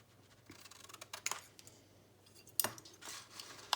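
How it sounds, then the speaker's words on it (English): Scissors snip through a folded flap of junk mail paper at a craft table, several separate crisp cuts at close range with quiet pauses between them. "And so then I want to cut this flap off."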